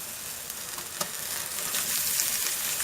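Chicken fries with reddish-brown onions for a chicken rogan josh, making a loud, steady close sizzle with a few faint scrape accents and no talk.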